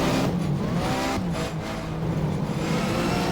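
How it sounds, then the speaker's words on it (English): A Porsche Supercup race car in Race 07 drifts around the Spielberg circuit, its tires squealing continuously over a loud, close engine roar that dips briefly mid-slide before picking back up. "I'm drifting right there."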